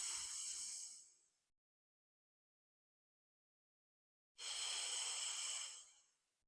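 Breath pushed out during Pilates lateral thoracic breathing: two long, airy hissing exhales close to the mic, separated by a few seconds of silence.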